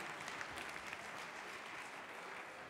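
Many hands clap together in a sustained, even burst for the cooks at the Cuisines en Scènes cooking show, crowded and close, with no clear talk over it.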